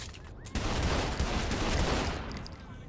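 Pistol gunfire in the video game Saints Row 3 crackles out as a quick burst of several overlapping shots, close and sharp, fading away after about two seconds.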